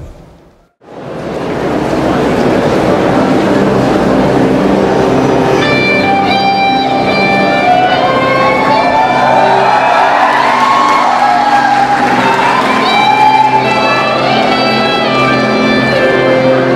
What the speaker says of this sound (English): let us all give a big round of applause as I invite on stage the talented singers and